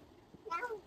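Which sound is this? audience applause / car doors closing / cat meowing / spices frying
cat meowing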